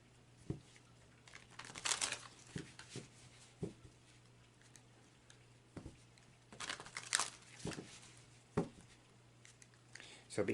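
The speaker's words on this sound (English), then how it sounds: "I tend to shuffle my oracle cards this way as opposed to the rifle shuffle or riffle shuffle" Oracle-size cards are shuffled by hand, giving soft, irregular papery crinkles and taps in small clusters, faint and close, with occasional louder flurries.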